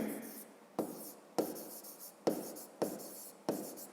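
A pen scratches out numbers during a fifth-grade math lesson, with six short, close strokes tapping down at a steady rhythm, each trailing into a faint scratchy tail.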